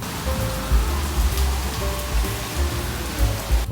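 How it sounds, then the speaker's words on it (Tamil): Steady rain falls on a street in Colombo's Pettah market district, a dense, continuous hiss of drops on hard surfaces with low rumbling traffic or wind beneath and no voices. "மழையும் இப்போ நல்லா வர ஆரம்பிச்சிடுச்சிங்க நீங்களே பாருங்கள் எப்படி மழை பெஞ்சிட்ருக்கு"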